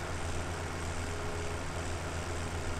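Tractor engine in Farming Simulator 17, a Massey Ferguson, droning at a steady low idle throughout with an even, unchanging rumble and no talk.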